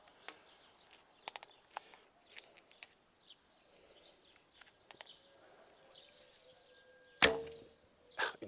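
Shots from a vintage Falco Twinbow reflex bow: a series of faint snaps and clicks, then a single loud, sharp arrow impact on the target late in the clip, with birds chirping softly in the background.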